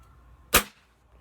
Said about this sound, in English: the muzzle report on it isn't that bad either, as it shouldn't be